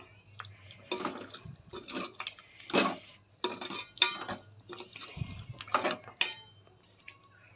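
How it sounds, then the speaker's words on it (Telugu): Leftover goat trotter soup (paya) poured into a pot of goat trotter curry in a home kitchen, with splashy liquid pours, drips and a few utensil clinks in irregular bursts, moderately close, no talking. "ఇప్పుడు మిగిలిపోయిన సూపు వేసుకోవాలి దీంట్లో"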